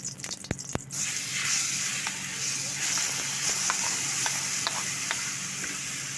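Jackfruit seed paste sizzles hard in hot oil in a kadai, a loud continuous frying hiss after a few sharp clinks of a utensil at the start.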